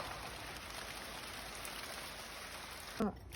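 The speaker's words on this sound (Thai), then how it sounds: "โอ้ยฝนมาแล้ว" Rain falls on a rainy day in Norway as a soft, steady hiss of drops on surfaces. It continues throughout and ends in a brief thump.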